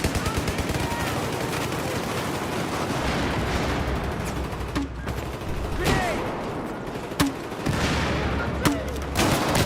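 Rapid bursts of automatic gunfire and heavy blasts from a grenade in the Battlefield video game, loud and dense throughout, with a voice speaking over the firefight.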